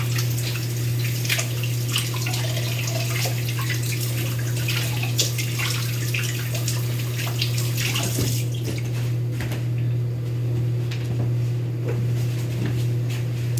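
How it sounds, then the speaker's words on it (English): Hands are washed under a running tap, and the water pours in a loud, steady, continuous stream close by, with small splashing changes throughout and no voices. "I'll wash my hands off."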